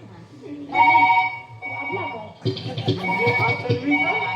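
A phone ringtone plays in repeated tones while people talk over it nearby.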